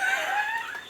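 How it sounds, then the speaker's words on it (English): Chickens cluck in a farm coop, a close, busy chorus of throaty warbling calls rising and falling in pitch, fairly loud throughout. "Look at all Chickens."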